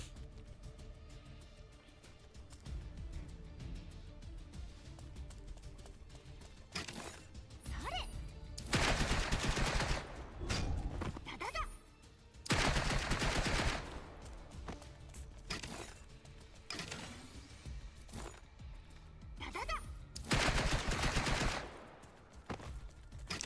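Video game machine gun fire comes in repeated loud bursts of rapid automatic shots, several sustained volleys separated by quieter gaps filled with background game noise.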